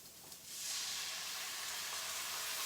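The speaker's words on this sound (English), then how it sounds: "Ooh, but you can hear it sizzling." A steady, close sizzle of onions in a hot pan, swelling to a loud, even hiss after a quieter opening.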